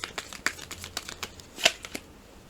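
Tarot cards being shuffled close up, a quick series of crisp riffling flicks and soft slaps in an irregular rhythm, with one sharper snap partway through.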